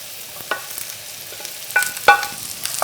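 Diced potato, onion, carrot and ham stir-fried in a pan for a Korean gamja-haem-bokkeum lunchbox, a soft steady sizzle with occasional scrapes and clicks of a utensil against the pan.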